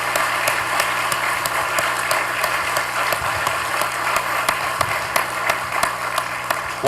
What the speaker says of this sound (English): Please join me in one more round of applause for our honorees.